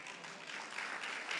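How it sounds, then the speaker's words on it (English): An audience applauds steadily at a secondary school graduation ceremony, the dense clapping sounding soft and somewhat distant in the hall. "Let's keep the applause coming"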